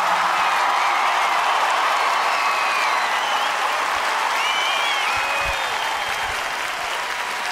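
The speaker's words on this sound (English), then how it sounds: "One more round of applause for our wounded vets." A large comedy-show crowd in Corpus Christi, Texas gives a sustained, loud round of applause for wounded veterans, with scattered whistles and cheers over the steady wash of clapping.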